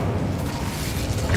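An Incendio fire spell from Hogwarts Legacy goes off as a brief, dense whooshing rumble, heavy in the low end and steady for about a second, with no voices.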